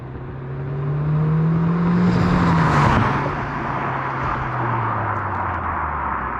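A car engine hums steadily with a soft, subdued exhaust note, rising briefly as it accelerates then settling back to a smooth drone.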